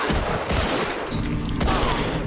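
Dense gunfire rattles in the World War II strategy game Assault Squad 2, with overlapping shots and bursts in a loud, continuous fusillade and no talk.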